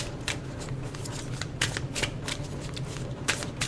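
A Fairies Oracle card deck being shuffled by hand, a steady riffling patter with repeated soft bursts of flicking cards, close and continuous with no talk.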